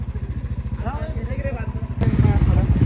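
A new motorcycle's exhaust is misfiring and shooting fire. A rapid, regular engine thump pulses nearby, then turns louder and rougher partway through, with a voice talking over it.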